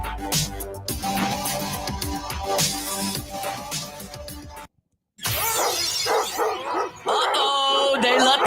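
Dog barking sound effect in a sports radio show segment, loud repeated barks over a busy backdrop, then a brief silent gap followed by a bright, layered burst of barking and effects.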